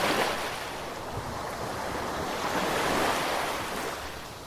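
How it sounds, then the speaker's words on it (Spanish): Ocean waves wash in and out with a soft, continuous surf roar that swells gently and recedes, heard alone with a faint wind hiss and no voices. "las olas seguirán ahí, respirando por ti, acompañándote y meciéndote suavemente"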